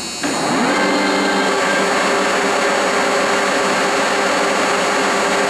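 Spindle of a Lucas Model 441B-72 table-type 4-inch horizontal boring mill running at 1,027 RPM: after a brief start, a loud, steady, close whine with a dense mechanical roar continues unbroken, with no talk.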